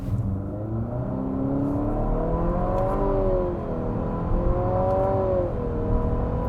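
A 2022 Infiniti QX55 with a CVT, in sport mode with traction off, revs its engine, a loud droning note rising and sliding in pitch as it accelerates with paddle shifts, heard from inside the cabin.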